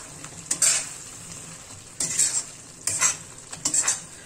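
Chicken karahi with dried fenugreek leaves (kasuri methi) is stirred in a hot pan over low heat, giving four bursts of scraping and sizzle with quiet gaps between them.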